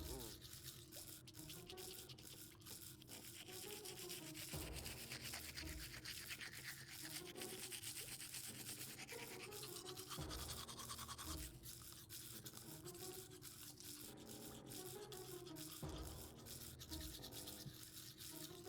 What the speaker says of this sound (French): on se brosse les dents maintenant